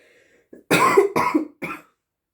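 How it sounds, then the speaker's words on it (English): Three harsh coughs in quick succession, close and loud, preceded by a brief throat sound, with no talking. "if I keep coughing"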